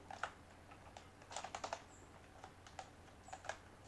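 Keystrokes on a computer keyboard come in quiet, irregular bursts, with scattered clusters of rapid clicks separated by short pauses. Nobody speaks over the close, soft typing.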